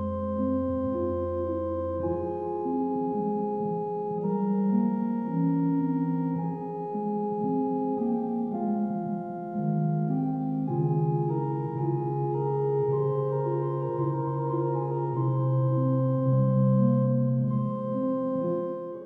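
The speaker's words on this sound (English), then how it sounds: "that sound is coming purely from a tone generator on the Commodore 64 and the spring reverb you can see in front of it" A Commodore 64 tone generator played through a spring reverb gives a church-organ sound. Sustained chords shift slowly and steadily, with a reverberant wash and no talking.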